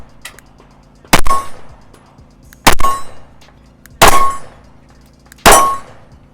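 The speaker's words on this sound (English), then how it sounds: "and then just shoot when you're ready." Four loud, sharp gunshots ring out one at a time at roughly even intervals, each with a brief metallic ring, from a firearm fitted with a Mantis X10 Elite recoil sensor, with no talking between them.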